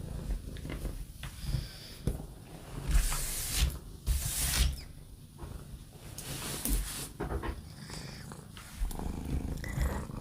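A pet cat purring up close, a continuous low rumbling drone with rhythmic breathy surges lasting the whole stretch, moderately quiet and alone without talk.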